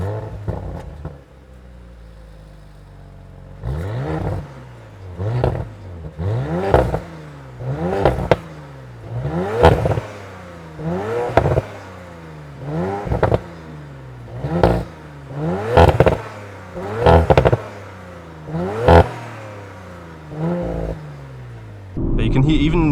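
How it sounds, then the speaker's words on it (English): An Audi RS5 Competition Plus with a valved exhaust system is blipped about a dozen times in quick succession. Each short, loud rev falls away with crackling pops and bangs, and the engine settles briefly between bursts. "You can hear even in these lower RPMs just the pops and bangs in the back"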